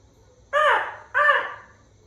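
A person imitates a parrot with two harsh, crow-like squawks, close and loud, over quiet background hum.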